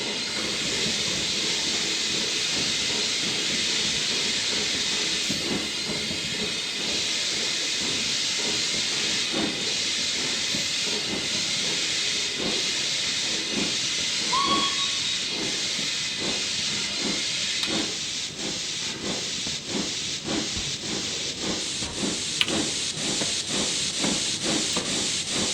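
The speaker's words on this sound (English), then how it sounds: "Let's put a bit of air in there, or a bit of steam in the cylinders." Steady broadband steam hiss from a K1 steam locomotive's cylinders in Train Simulator 2018 on Scotland's western lines, continuous and fairly loud for the whole stretch, with faint rhythmic mechanical ticking and rail noise beneath.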